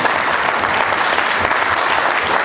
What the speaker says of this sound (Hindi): तो जोरदार तालियां हो नासिर साहब के लिए और रोहित सर के लिए